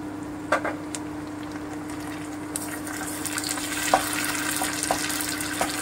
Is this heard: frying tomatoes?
yes